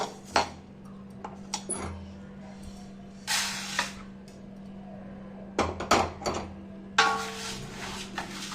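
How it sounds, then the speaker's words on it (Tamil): Roasted spices for sambar powder tipped from a pan onto another plate, giving scattered clinks and scraping rattles in short bursts over a steady background hum, close by. "இப்போ எடுத்து வேறு தட்டில் நான் கொட்டிக்கிறேன்"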